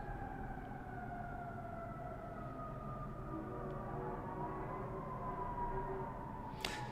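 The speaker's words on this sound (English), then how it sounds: "Some sirens going on." A distant siren wails with a slowly falling pitch over steady low rumbling background noise, faint and drawn out.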